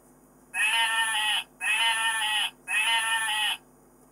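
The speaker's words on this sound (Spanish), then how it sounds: "La oveja también hace un sonido largo." Sheep bleating on a farm, three long, loud, evenly spaced bleats close by, heard alone.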